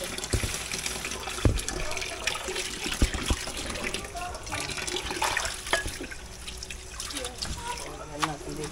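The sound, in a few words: water poured over vegetables to soak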